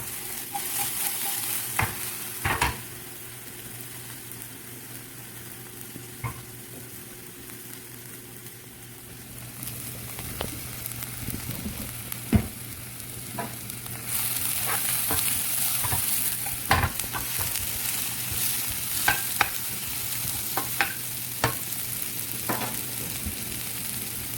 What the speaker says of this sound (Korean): 파부터 먼저 넣어볼게요. 기름에 한번 이렇게 볶아서 향을 내주세요.